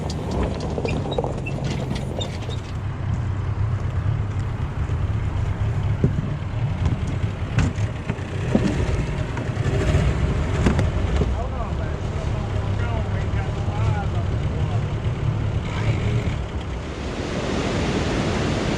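Jon boat being backed into the water at a dam, with a steady wash of water and wind-like rumble throughout, broken by faint knocks and brief low voices.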